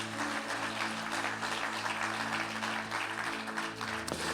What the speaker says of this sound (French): J'aimerais entendre une acclamation à ceux qui croient que nous avons un grand héritage.